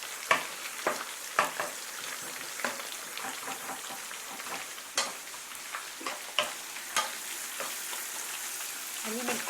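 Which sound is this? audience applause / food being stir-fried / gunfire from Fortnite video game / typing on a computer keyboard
food being stir-fried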